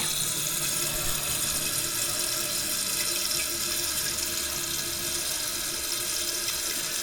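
Water rushes steadily into a toilet tank and bowl through a newly replaced float valve, a constant close hiss and flow with no pauses and no voices.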